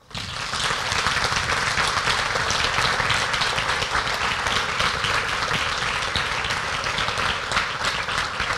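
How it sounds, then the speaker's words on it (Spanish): Audience at an architects' association celebration breaks into sustained applause, a dense, loud, even roar of many hands clapping that starts abruptly and holds steady for over eight seconds without speech. "Un aplauso."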